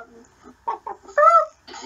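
A person imitates a hen's clucking with their voice, a short burst of bright squawky clucks near the end, following brief murmured talk.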